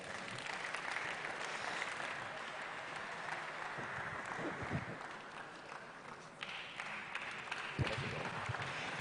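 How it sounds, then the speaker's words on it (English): Audience applause at a university roadshow session in Kumasi, steady clapping from a crowd heard at moderate distance throughout. "A round of applause for him."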